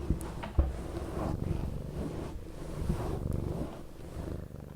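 A cat purrs close against a microphone while rubbing her cheek on it, a continuous low rumbling purr with soft brushing and thumping contact noises, intimate and steady.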